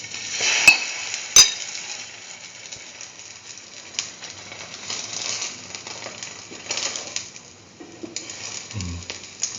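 A dipped French toast sandwich filled with mustard potato and chickpea fries in a pan, giving a steady soft sizzle with a couple of sharp clinks near the start and faint scraping as it is moved.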